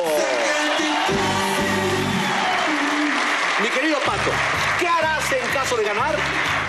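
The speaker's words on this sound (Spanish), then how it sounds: "Un fuerte aplauso para recibir a Pato Carlos." Loud studio audience applause fills a Mexican TV talk show set as a guest is welcomed, steady dense clapping with cheers, while music and a host's voice run over it throughout.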